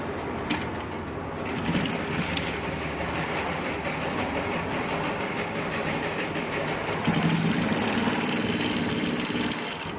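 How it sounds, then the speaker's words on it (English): A sewing machine stitches bias piping onto a pieced skirt. Its motor hums steadily with a fast, even needle rattle, close by and continuous, and the pitch shifts slightly partway through. "So I'll now take it back to the machine and stitch down on the line."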